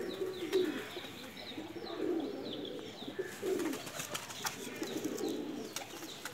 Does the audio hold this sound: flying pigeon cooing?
yes